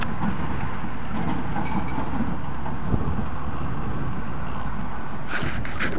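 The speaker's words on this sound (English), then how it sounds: "trucks are going by like crazy" Trucks passing on a nearby road on a windy day, a continuous low rumble with rushing wind noise, swelling briefly near the end as a vehicle goes by.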